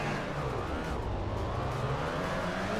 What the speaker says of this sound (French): Vroom vroom, ça vroom.